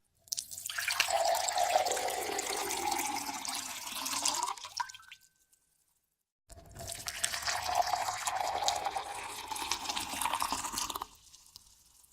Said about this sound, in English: There is water being poured into a glass.